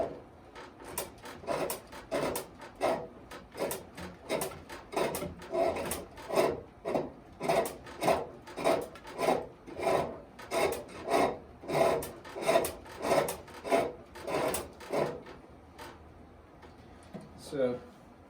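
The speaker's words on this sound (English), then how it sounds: "find the sweet spots where the gouge will cut." Gouge cutting wood on a spring pole lathe, a rhythmic series of raspy scraping strokes repeating about once a second for many cycles, close and fairly quiet.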